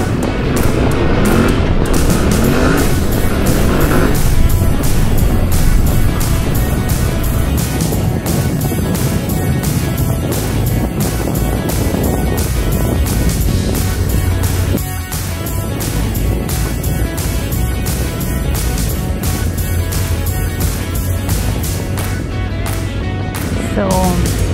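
A Yamaha Tenere 700 motorcycle rides steadily through a forest area, its engine droning loud and continuous throughout, close and constant with no speech over it.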